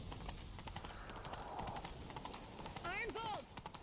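Horses gallop in The Witcher 3 video game with rapid rhythmic hoofbeats through the whole stretch. A whinny rises near the end, and a voice talks faintly underneath.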